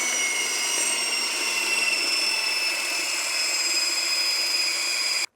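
Keto banana muffin batter made with pork rind flour being mixed, likely with an electric hand mixer: a loud, steady whirring drone held for about five seconds, then stopping abruptly.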